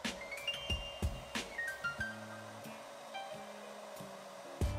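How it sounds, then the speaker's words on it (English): A JMW Phantom Prime hair dryer blows with a steady, quiet whirring hiss and a faint constant whine, broken by a few light clinks and handling knocks nearby. "Grab my hairdryer, which is the JMW Phantom Prime."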